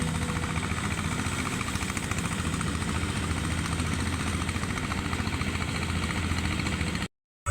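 A Kubota rice combine harvester working a paddy field in Laos, its engine droning steadily and loudly at close range with a dense mechanical rumble, cutting out briefly near the end.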